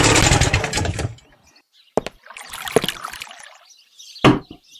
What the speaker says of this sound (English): engines back in the 40s were very loud. Not a lot of sound dampening either. Like, that's an old engine.